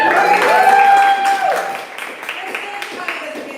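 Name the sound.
audience cheering for Chicago at a poetry reading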